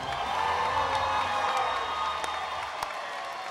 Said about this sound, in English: Give them both a round of applause.